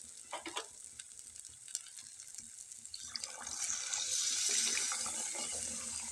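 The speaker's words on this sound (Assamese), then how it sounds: "গৰম পানী ঢালি দিম" Hot water is poured into a frying pan over browning food, a short clatter giving way to a rising, steady hiss and bubbling sizzle that grows louder and holds to the end, close by with no talking.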